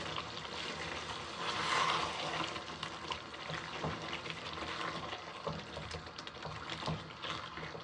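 Chicken and four whole green chillies are mixed in a hot pan for a chicken and capsicum dish, giving a continuous soft sizzle with gentle stirring scrapes.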